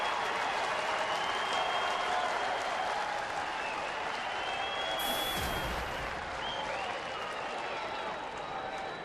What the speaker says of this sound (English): the fans who are here, another standing ovation for Torii Hunter